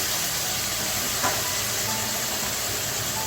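Water added to a hot pan of frying chicken gives a steady, loud steam hiss and sizzle that runs unbroken through the whole stretch.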